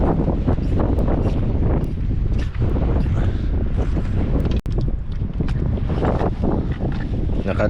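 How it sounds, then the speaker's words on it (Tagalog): Strong wind buffets the microphone in heavy, rumbling gusts throughout, with faint rustling underneath. "Lakas na hangin ah."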